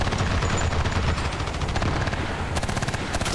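Infantry gunfire in the tactical war game Armored Brigade II crackles in dense, rapid automatic bursts over a rumbling battlefield din, loud and continuous throughout.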